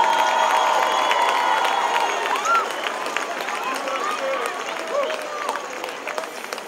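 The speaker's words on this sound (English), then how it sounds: "Give him a big round of applause and welcome." A crowd at an outdoor Christmas tree-lighting event on a town main street applauds and cheers, sustained clapping mixed with scattered shouts and tonal noise, with bright whistle-like sounds rising over the crowd.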